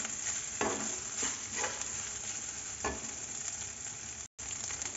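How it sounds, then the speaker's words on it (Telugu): Carrot rice being stirred and mixed in a hot pan, a soft continuous sizzle with occasional scraping strokes of the spoon, close and fairly quiet. "మొత్తం దీనంతా బాగా కలుపుకోవాలన్నమాట."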